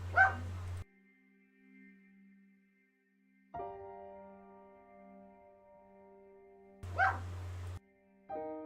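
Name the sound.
dog barking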